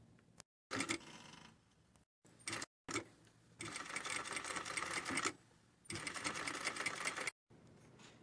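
Sewing machine stitching bias binding onto the gathered cuff of a sleeve, running in several loud bursts of rapid mechanical whirring separated by short pauses.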